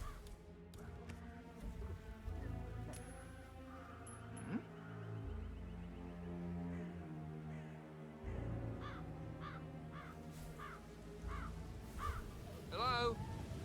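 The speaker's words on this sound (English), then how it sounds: "I'll never get rid of those stupid birds." Crows cawing repeatedly in the Hitman 3 video game, a series of short harsh calls at moderate distance over a steady game soundtrack and ambient hum, with a voice talking over parts of it.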